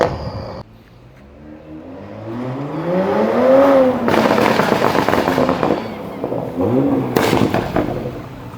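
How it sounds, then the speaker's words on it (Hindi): BMW X5 with 500 bhp, BM3 Stage 2 tune and pops exhaust, heard from the cabin while driving: a rising, revving engine drone with loud, rough exhaust bursts and crackles, fairly close and loud. "मैं एक बार आपको आवाज सुना देता हूँ थोड़ी, जब गाड़ी अंदर बैठ के कैसे आवाज आती है, चलती है जब कैसे आवाज आती"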